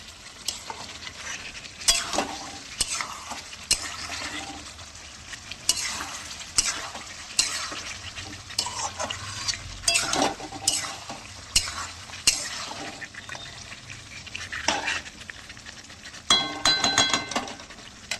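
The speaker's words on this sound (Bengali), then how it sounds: "অনেকক্ষণ ধরে এবার আলু দিয়ে নাড়াচাড়া করবো।" Mutton and potatoes are stirred in a frying pan, with a spoon scraping and clacking against the metal in repeated strokes over a constant frying sizzle. The sound is close and there is no talking.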